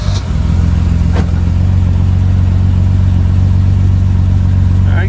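The first BMW M6, with a 24-valve inline six, runs loud and close, its engine holding a strong, steady low drone while given a little throttle.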